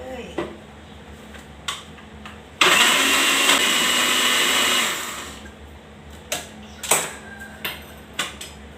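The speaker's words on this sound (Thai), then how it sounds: "ปิดฝาเครื่องปั่นค่ะเฮาก็ปั่นรลดไปที่นี่" An electric blender grinds sour curry chili paste with no added water, starting abruptly with a loud, dense whirring roar for about two seconds, framed by clicks and knocks of the lid and jar.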